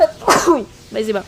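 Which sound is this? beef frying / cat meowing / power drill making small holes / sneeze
sneeze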